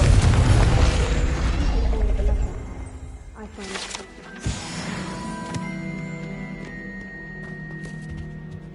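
A Confringo blast spell goes off in Hogwarts Legacy, a booming burst with a sharp crack near the middle, followed by lingering magical ringing tones.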